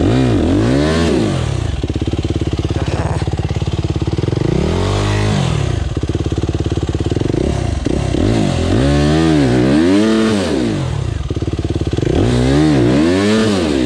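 A motocross dirt bike, an RMZ250 or YZ85, revs hard trying to climb a clay embankment, its loud engine rising and falling repeatedly in close, continuous surges with clattering.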